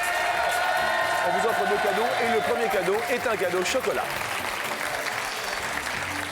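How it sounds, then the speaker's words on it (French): A studio audience on a French television game show keeps up steady applause at moderate level while a presenter talks over it. "on applaudit tout de même très très fort Aline"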